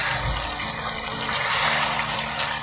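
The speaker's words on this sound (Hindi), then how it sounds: "अब इसको हम मज़ीद फ्राई कर लेंगे" Chicken karahi frying in oil after the chicken has turned tender, giving a steady, close, broadband hiss and sizzle that holds at an even level throughout with no voices.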